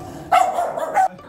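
Rescued puppies bark: two sharp, high yips in close succession, loud and near, with quiet before and after.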